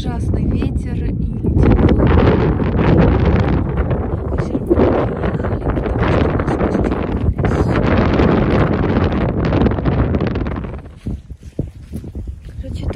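Strong wind blasting straight into the microphone on a cold, cloudy day at the Brecon Beacons, a loud continuous low rumble and buffeting that eases near the end, with a voice partly buried beneath it.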